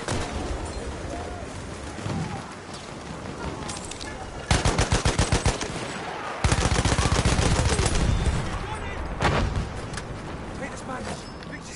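Machine gun fire in Battlefield 1 on PS4 Pro, loud rapid automatic bursts of several seconds each with scattered gunshots and battle noise, and a player talking over the combat.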